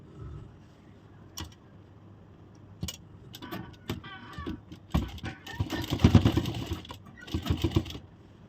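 Sewing machine stitching a ladies' shirt, short bursts of rapid mechanical clatter that grow louder and denser toward the end, separated by quiet pauses and a few sharp clicks, close by with no speech.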